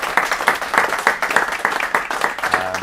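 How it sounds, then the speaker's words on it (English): A lecture audience gives a steady round of dense clapping at the close of a Friday lunchtime talk, sounding close and continuous. "Let's give Mike another round of applause for a great lecture."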